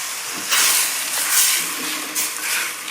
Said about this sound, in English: Put the wine right into those shrimps.